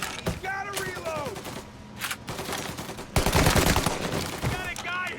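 Gunfire bursts in the Mafia Definitive Edition story mode, with several loud shots and rattling volleys in quick succession near the end, mixed with game dialogue and music-like tonal sounds in the background.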